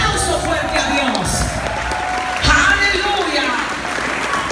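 Loud congregational applause during a church service, a dense wash of clapping with shouts and a preacher's voice ringing over the crowd.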